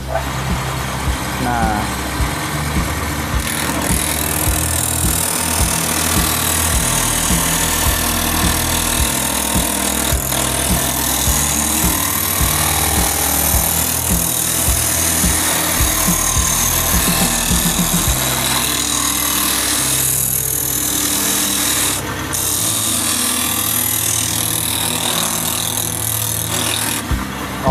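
An engine-driven machine runs loud and continuous as it processes stripped bamboo for small crafts, with grinding and cutting texture that shifts in pitch, and a voice briefly speaks over it.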